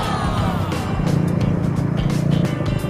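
Fuel-injected Yamaha Sight motorcycle engine revs close by, a steady running note with short throttle blips, alone without talk.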